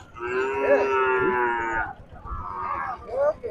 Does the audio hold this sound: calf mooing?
yes